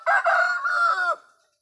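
A single loud rooster crow rings out close by, one long drawn call that fades quickly into silence.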